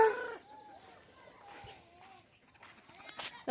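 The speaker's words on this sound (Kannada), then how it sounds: "ಕೋಳಿಗಳು ಬಿಟ್ಟಾರ ನೋಡ್ರಿ." Several hens cluck and chatter close by in short, uneven bursts, with a few higher calls and a sharp sound at the end.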